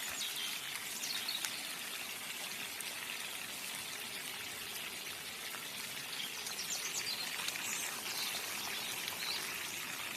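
Bacon and sausages frying in a woodland camp, a faint steady sizzle and crackle running continuously, with soft birdsong chirping now and then in the background.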